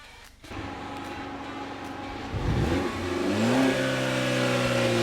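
A motor home engine starts and runs, then revs up with a rising, climbing tone before settling into a steady hum, close by.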